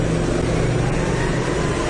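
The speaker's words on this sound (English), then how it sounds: "I can hear the bloody cars going past, going over the roof" Road traffic passes overhead as a dense, continuous rumble and hiss of car engines and tyres that stays loud throughout.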